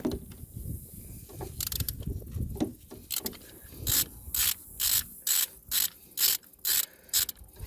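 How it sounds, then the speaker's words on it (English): A ratchet fitted with a T50 bit loosens the timing belt tensioner pulley on a Chevrolet Sonic LT 1.8 engine, some rubbing handling noises first, then a run of about ten loud, evenly spaced clicking ratchet strokes up close. "We're going to remove the tensioner here, the pulley."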